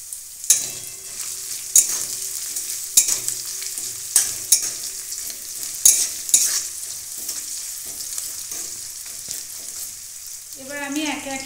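Chopped green chillies sizzle in a frying pan: a close, steady hiss broken by repeated sharp scrapes and clacks of stirring, with a brief voice near the end.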